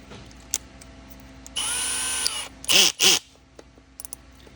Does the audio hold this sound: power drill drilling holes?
yes